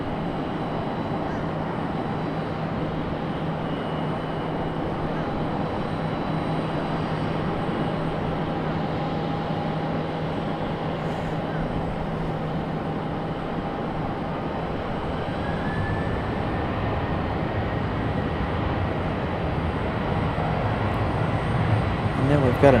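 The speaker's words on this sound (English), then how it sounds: "Let's go down here to the FedEx 767. Making its way off the runway." A FedEx Boeing 767 taxis off the runway at Raleigh-Durham International airport, a distant, steady engine whine and hum that holds throughout and swells slightly near the end.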